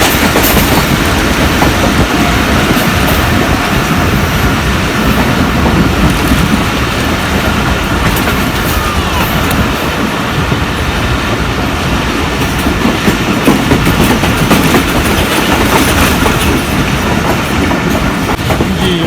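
A Pakistan Railway train nearing Ladi station rumbles loudly and steadily along the rails, its wheels clattering rhythmically over the track joints with constant roaring noise throughout.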